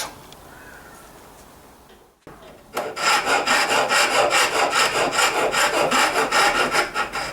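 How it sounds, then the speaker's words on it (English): After a quiet start, a Shinto rasp files wooden pegs to fit, with loud, rapid, rhythmic back-and-forth strokes that continue steadily. "It just means a shed load more work with the old Shinto rasp."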